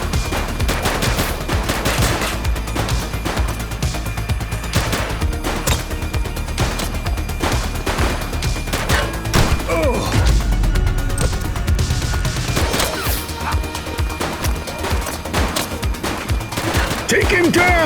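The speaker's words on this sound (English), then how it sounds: "He's shooting!" Gunfire in the police video game The Precinct: repeated bursts and single sharp shots cracking over a constant loud soundtrack, with occasional shouted voices mixed in.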